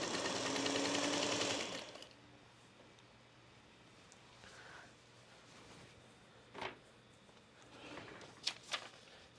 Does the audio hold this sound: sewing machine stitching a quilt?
yes